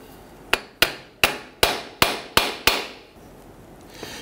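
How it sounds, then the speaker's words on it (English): A hammer taps around the edge of a 2011-2021 Jeep Grand Cherokee 3.6L V6 rear drive shaft unit to free it from its coupler. Seven sharp, evenly spaced metallic knocks ring out close by, followed by a faint final tap. "go ahead and tap around the edge here and separate the rear unit from the coupler here"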